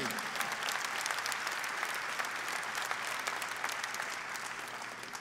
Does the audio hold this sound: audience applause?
yes